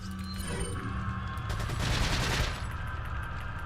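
An SMG in the original Resident Evil 4 fires a dense, continuous rattling burst at moderate level, swelling briefly in the middle before settling back into steady fire.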